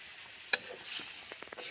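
Water goes into a pan of spiced drumsticks frying in oil, a sharp splash followed by a soft hissing sizzle with a few small pops, faint and close.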